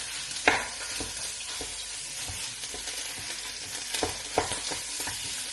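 Ground meat sizzles steadily in a home kitchen pan while a utensil stirs and scrapes it now and then, producing a continuous hiss broken by occasional sharp clacks, with no talking.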